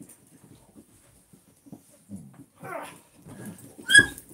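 Hayes, a male dog, whimpers and yips in short, soft bursts, faint and intermittent at first and then rising to a sharper high cry near the end.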